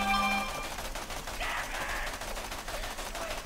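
Sustained automatic fire from a purple Scav assault rifle in Borderlands The Pre-Sequel, a dense rattling stream of rapid shots at steady volume running the whole time.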